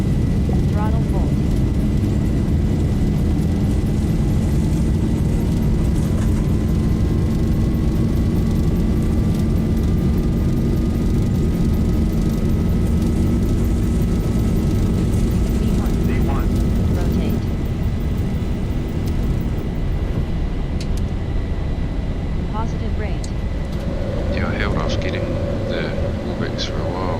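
Jet engines of a Boeing 737 spool up at takeoff thrust in a Zibo 737 flight simulator, a steady loud roar with a rising whine holding throughout as the aircraft rolls, while a voice talks intermittently over it.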